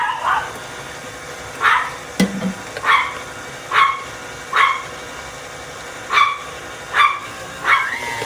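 A pet dog barks repeatedly in a home kitchen during baking, single sharp barks at roughly one-second intervals, clear and fairly close, with no talk.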